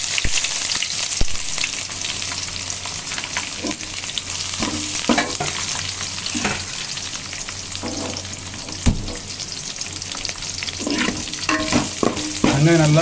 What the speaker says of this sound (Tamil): வெங்காயம் நல்லா பொன்னிறத்துக்கு வதங்கி வரட்டும்.